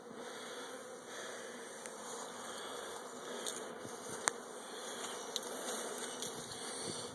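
A swarm of bees clustering while being installed in a hive, a steady buzzing hum of many insects close by, with occasional soft clicks and taps.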